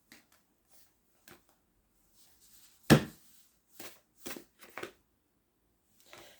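A tarot deck is shuffled and a card is drawn, making a few sharp close riffles and snaps: one loud flick, then several softer ruffling bursts with short quiet gaps.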